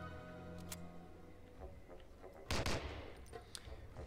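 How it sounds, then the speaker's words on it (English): M1 Garand rifle firing in Medal of Honor: Allied Assault, a few sharp gunshot cracks, one louder close blast mid-clip, over a quiet game background. "I believe it's called the M1 Garand"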